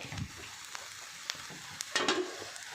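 June beetles roast in a pot, giving a soft dry sizzle broken by scattered clicks and rattles and a louder scraping stir near the end, close by.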